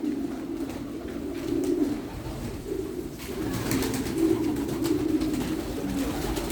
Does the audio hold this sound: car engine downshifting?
no